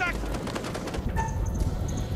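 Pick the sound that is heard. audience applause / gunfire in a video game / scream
gunfire in a video game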